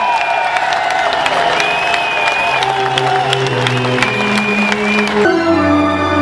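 A large crowd at a Critical Mass bicycle ride event applauds and cheers steadily, a dense wash of clapping with whoops, while music plays underneath and ends with a sudden change near the close.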